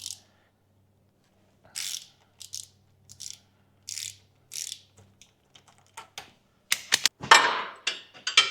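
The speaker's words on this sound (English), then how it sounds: "I'll just use a socket for the bottom one" A socket wrench ratchets on the bottom diff bolt of a Toyota Hilux N70 during a front diff seal job, in short separate bursts of clicking with quiet gaps, ending in denser, louder clicks.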